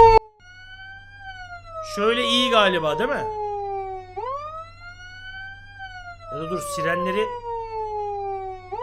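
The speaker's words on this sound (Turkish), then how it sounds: "Bu nasıl bir siren lan?" An emergency vehicle siren wails in the video game Flashing Lights, a steady rising and falling tone over a low engine hum, while a voice talks over it in two short stretches.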